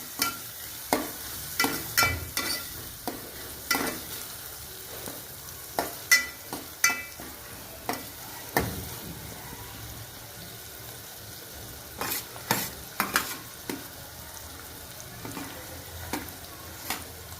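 Onions sautéing in a pan with asafoetida for rajma masala, a steady sizzle broken by frequent sharp clatters of a spoon stirring against the pan, no talking.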